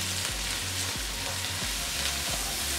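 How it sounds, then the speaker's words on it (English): Onion sautéing in a pan with salt, turmeric and cumin, a constant soft frying hiss with occasional stirring scrapes and a low tonal hum underneath, no speech. "Cooking our onion for 1 minute"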